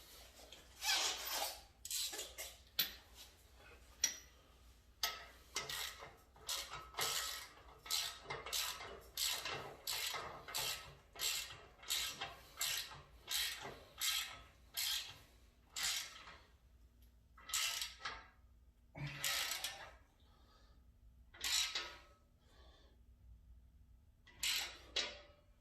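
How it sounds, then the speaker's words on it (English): Socket ratchet tightening the factory exhaust clamp on a Harley, a long series of quick close metallic clicks in bursts with short pauses, faint and with no talking. "change the socket to the other one, pull it down here and tighten it up"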